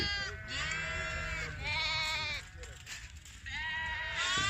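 Sheep bleat in a pen on a livestock farm, several loud overlapping calls coming in repeated bursts close by, with faint talk underneath.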